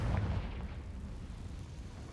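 A fiery Confringo blasting-curse explosion in the wizarding game Hogwarts Legacy: a soft booming burst at the start that rumbles and fades away, fairly faint throughout.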